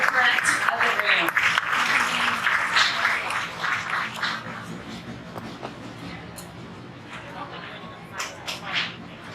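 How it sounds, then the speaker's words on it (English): A room of guests at a Hall of Fame dinner gives a round of applause, dense clapping at first that gradually thins and fades, with talking as it dies down. "Let's take a round of applause for Gay Schmidt."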